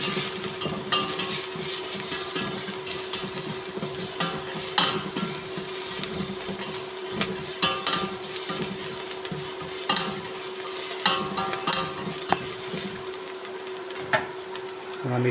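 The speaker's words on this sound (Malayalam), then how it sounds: "മിക്സ് ചെയ്ത് കൊടുക്കാം." A spoon stirs a masala mix of chili powder, garam masala, meat masala and salt in a frying pan for a kappa and liver dish. Steady sizzling runs under repeated scraping strokes, with no voices.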